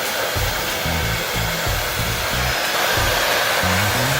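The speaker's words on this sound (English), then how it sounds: "Make sure your hair dryer is on a hot setting" A hair dryer on a hot setting blows steadily while warming a pair of shoes to soften the material, a loud close rushing whoosh with an even motor hum and no talking.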